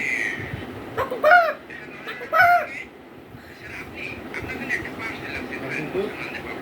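Voice imitating a chicken's clucking in two short, rising bursts, close by, followed by quieter chatter and room noise.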